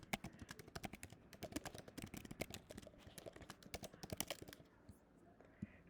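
Fingers type on a computer keyboard, tapping out quick, irregular keystrokes close by at low volume, with brief pauses near the end.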